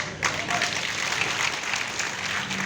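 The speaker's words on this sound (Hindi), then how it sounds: "आपने ताली बजाई" An audience claps together during a talk on marketing, a lively burst of applause that stays full and fairly close for a few seconds.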